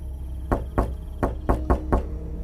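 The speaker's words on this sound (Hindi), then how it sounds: "तभी बाहर जोर से दरवाजा पीटा गया।" Six heavy, loud thuds of pounding on a door in an uneven rhythm, with a low hum between them.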